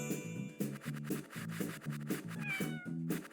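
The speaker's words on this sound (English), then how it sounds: "Cat." A cat meows repeatedly in a quick rhythmic series over a steady background tone in a children's learning game about letters and sounds.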